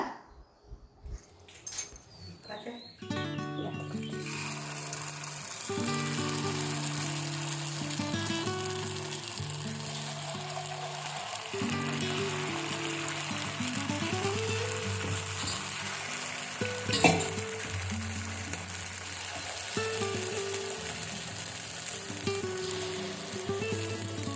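Paddu batter frying in plenty of hot oil in a pan, a steady close sizzle running throughout with a few brief clinks and stirring sounds, no talk.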